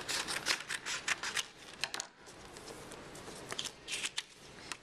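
Scissors cutting a traced piece of material for a sculpture maquette, a rapid series of close crisp snips and paper rustles, alone without talk.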